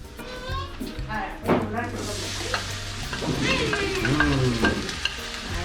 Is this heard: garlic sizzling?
yes